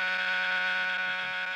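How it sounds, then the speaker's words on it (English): A counter buzzer is pressed to stand in for a fire alarm, giving one steady, harsh electronic buzz that holds for over a second without a break, loud and close, with no talking. "when I press this counter buzzer, we'll pretend that it's the alarm and get out."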